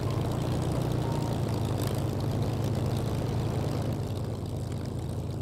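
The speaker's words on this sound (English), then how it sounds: "Spitfire." Supermarine Spitfire, a WWII fighter with a piston engine and propeller, gives a loud, steady droning throb with a strong low hum, close and continuous, easing slightly near the end.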